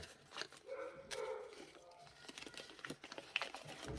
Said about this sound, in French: il y a le chien qui aboie